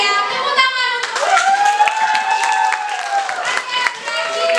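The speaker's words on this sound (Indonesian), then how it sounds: "Tepuk tangan untuk" Children clap their hands in a classroom, a short burst of quick claps near the start and scattered claps later, under a teacher's clear speaking voice.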